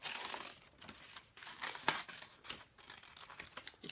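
Scissors cutting a paper shape for a face collage, close soft snips and crinkling paper rustle in an irregular run, with no talking.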